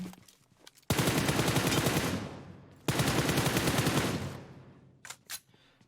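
Automatic gunfire in PUBG Mobile on the Erangel map: two long, loud, close rapid-fire bursts of about a second and a half each, separated by a brief pause, with quieter scattered shots before and after.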